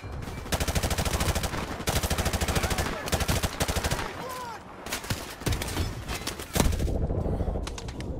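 Heavy gunfire in Call of Duty 4: Modern Warfare Remastered, with rapid automatic bursts and scattered single shots cracking loudly and continuously, some near and some farther off, with brief lulls between volleys.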